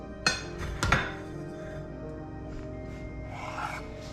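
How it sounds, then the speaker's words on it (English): A knife cuts peanut butter dog treat dough into pieces, with two sharp taps on the board near the start, then quiet scraping and rubbing. "I will just start cutting it into the size I want."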